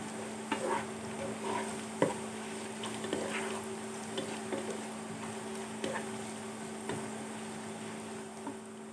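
Whole spices (cinnamon, crushed cardamom and cloves) fry and sizzle with onions in a pan for beef curry, a steady sizzle broken by the scrape and knock of stirring, close and with no talk.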